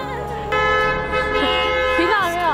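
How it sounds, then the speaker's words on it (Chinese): Car horns toot and blare in Beijing street traffic, several overlapping honks held for a couple of seconds close by, with voices mixed in. "这边他们喇叭上不用钱了"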